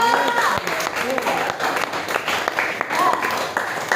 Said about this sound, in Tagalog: Malakas ang palakpak.